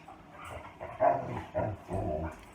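Dogs play and bark indoors at home, their muffled, rough barks and yips rising in a few bursts, somewhat distant and low in level.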